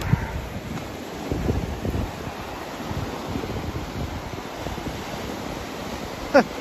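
Sea waves wash steadily onto the shore at Prestatyn, North Wales, a continuous broadband surf roar with gusty wind buffeting the microphone and a brief sharp knock near the end.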